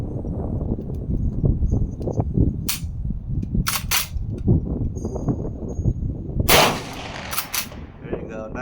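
A Smith and Wesson 1854 lever-action rifle in .44 Magnum is worked by hand, giving several sharp metallic clacks and snaps amid close handling rustle and faint outdoor noise.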